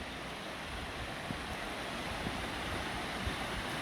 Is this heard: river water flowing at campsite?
yes